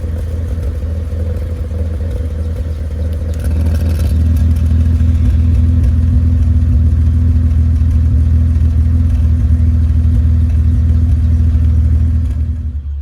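Car exhaust fitted with a DIY electric cutout valve, held closed, gives a steady low droning rumble that swells slightly after a few seconds and holds loud and close before easing off at the end.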